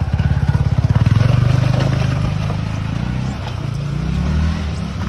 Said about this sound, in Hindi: चला रहे हैं अपनी बाइक